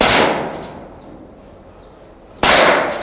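Two loud, sharp pistol shots at a shooting range target, each with a cracking impact and a long ringing decay, about two seconds apart with no talk.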